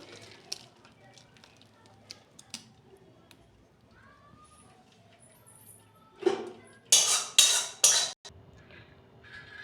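Curdled milk (chhena) is strained through a kitchen cloth: faint kitchen clatter first, then several loud, splashy gushes of liquid pouring close by near the end.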